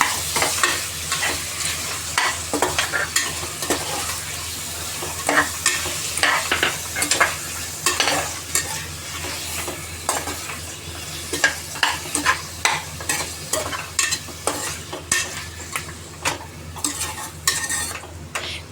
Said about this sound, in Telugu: వేసుకున్నాక బాగా ఇలా మటన్కి అంతా కలపాలి